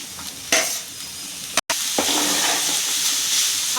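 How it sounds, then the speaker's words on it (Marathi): Onion and tomato sautéing in oil in a pan while paneer bhurji is being cooked: a steady sizzle with a couple of stirring scrapes, close and continuous, with a brief gap partway through. "आता आपण हा टोमॅटो चांगला परतून घेऊया।"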